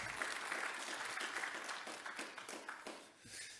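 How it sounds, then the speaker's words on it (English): Audience applause at a public lecture on energy sovereignty, a dense, steady wash of clapping from a seated crowd that fills the whole stretch and tapers slightly near the end. "Please do give him a round of applause as he makes his way forward."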